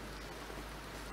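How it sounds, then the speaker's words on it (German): Steady rain falling outdoors in a 1969 black-and-white German crime drama, heard as a dense, even hiss that does not let up over the short moment, with no speech. "Schau doch mal, wie es regnet."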